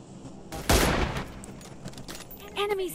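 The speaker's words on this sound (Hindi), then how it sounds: "गोलियां चली" A short burst of gunfire in the mobile battle-royale game PUBG Mobile, one loud broadband crack followed by a decaying tail, with a voice speaking briefly near the end.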